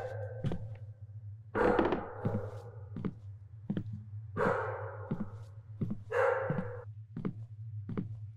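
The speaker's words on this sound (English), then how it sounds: "hey, there's a dog that's going to attack you" A dog in the video game Deathbloom barks several times in short, loud bursts spaced a second or two apart, over a steady low hum with thumping sounds between.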